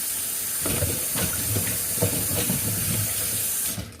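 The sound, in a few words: washing strawberries under running tap water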